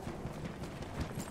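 A horse gallops in Battlefield 1 with soft, quick, muffled hoofbeats. It sounds fairly faint and close and is heard alone.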